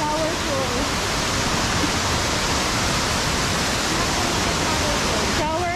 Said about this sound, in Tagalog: Shower falls na lang tawag dito.